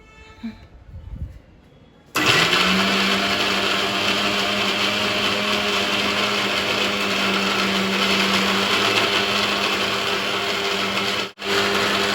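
A mixer grinder blends oats brownie cake batter, switching on after a quiet, faintly clattering start and then running as a loud, steady whine and roar until it briefly dips near the end.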